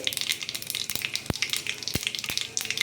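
Dried red chillies and mustard seeds sizzling in hot oil for a masala dosa potato filling, a faint, continuous crackle with scattered sharp pops and a few louder knocks.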